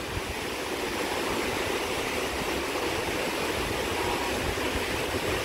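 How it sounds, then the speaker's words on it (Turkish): Fırtına Creek, a mountain stream in the Fırtına Valley on the road to Ayder plateau, rushes loudly and continuously close by, a dense unbroken hiss of flowing water with no voices. "Burası Fırtına Deresi."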